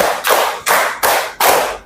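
Children in a classroom clap their hands in unison, four distinct group claps landing at a steady beat, sharp and close with brief gaps between them and no talking.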